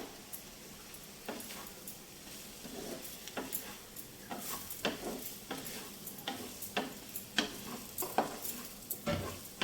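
Mushrooms frying in a pan while being stirred with a spatula, a low sizzle broken by repeated sharp scrapes and taps against the metal, fairly quiet with no talk.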